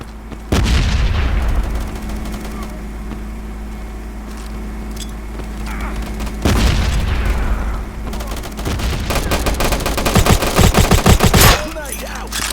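A grenade explosion and bursts of gunfire in the mobile shooter Modern Ops on a construction site map: sharp loud blasts followed by rapid automatic fire, with bursts repeating over the clip.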